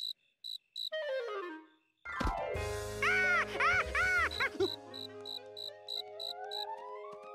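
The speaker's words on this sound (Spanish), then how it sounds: "Y Jorge liberó al grillo para que fuera saltando feliz a su casa." A cricket chirps in a children's cartoon, with high, evenly spaced pulses at the start that return at the end, and cartoon sound effects and music swell in between.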